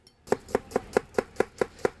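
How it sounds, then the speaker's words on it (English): Steady rhythmic knife chops finely dicing onion on a cutting board, eight crisp evenly spaced strikes at a quick pace, close up with no talking. "a little bit of finely diced onion"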